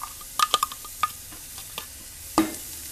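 Ginger, garlic and green chilli stirred in a little oil in a pan for egg biryani, with soft scattered clinks and scrapes of a spatula over a faint low sizzle, one louder knock near the end.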